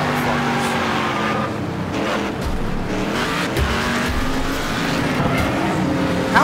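Car engine held at full throttle in the racing game Wreckfest, a loud continuous roar with tire squeal and scraping impacts mixed in, steady throughout.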